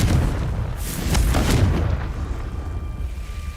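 A Confringo blasting spell goes off in the Hogwarts Legacy game as a deep, rumbling explosion with a crackling burst. It swells, then fades into a low echoing rumble, with no speech over it.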